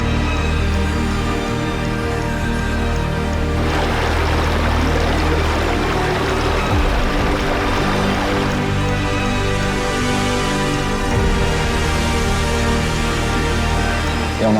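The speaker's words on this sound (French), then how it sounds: "on passe des torrents" Rushing water from a mountain torrent in Norway, a steady broadband roar that grows fuller and more turbulent partway through, continuous and close with no voices.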